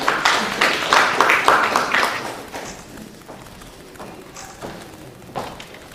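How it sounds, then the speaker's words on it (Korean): Audience applause at an event held at Korea's National Assembly: a burst of dense clapping that thins and fades within a few seconds, leaving sparse scattered claps. "예, 많은 박수 부탁드립니다."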